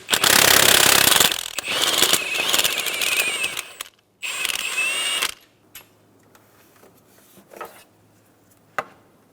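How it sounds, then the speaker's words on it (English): A half-inch impact wrench on a long extension and swivel socket hammers loose a transmission mount bolt on a 2014-2019 Toyota Highlander, giving loud close rattling bursts, a brief pause, another burst, then faint clanks and taps. "I'm using a long extension on a swivel socket, using a 1/2" impact."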